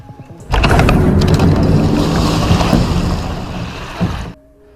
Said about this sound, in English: told the boat driver to rev up the engine and continue